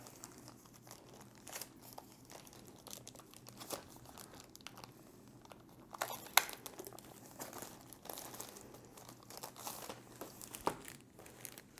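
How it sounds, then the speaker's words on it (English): Plastic wrap crinkling and crackling as it is peeled off an Amazon Fire TV Stick 4K box, a quiet, steady rustle with a few sharper tearing crackles, close up and with no talking. "So let's start out by unwrapping it."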